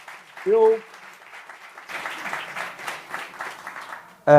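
Applause from an audience at a business talk on innovation and management, a moderate steady patter of clapping with a brief voice and a sharp tonal sound near the start and again at the very end.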